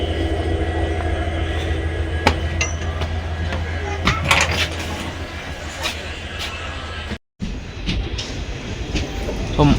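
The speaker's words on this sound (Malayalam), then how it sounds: "മാംഗ്ലൂർ ജംഗ്ഷനിൽ നിന്ന് ട്രെയിൻ ഡിപ്പാർട്ട് ചെയ്തു" A Duronto Express train pulls out of Mangaluru Junction, a steady low rumble of rolling wagons with occasional rattles and clanks, heard from inside with a voice talking over it and a brief cutout near the end.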